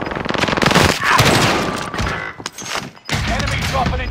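Rapid automatic gunfire in the Call of Duty: Modern Warfare video game, loud dense bursts with a short gap before firing resumes, while a voice shouts over the shooting.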